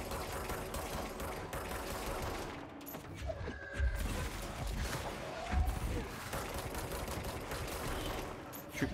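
Gunfire in the video game Control, with dense overlapping shots and bursts over steady game noise and music, with a couple of heavier impacts near the middle.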